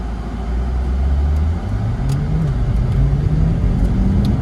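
A Corvette with the Z51 package exhaust drives through curves, its deep, loud engine rumble rising in pitch in stepped surges as it accelerates, with a steady rough road roar underneath.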